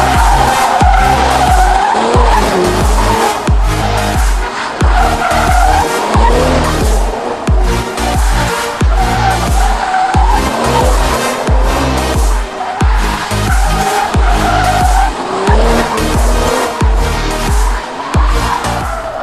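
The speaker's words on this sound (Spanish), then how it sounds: "vamos a hacer un poquito de drift en el coche verde" A green Nissan 350Z drifts around cones, its tires squealing loudly and continuously while the engine revs rise and fall in repeated surges, close and intense throughout.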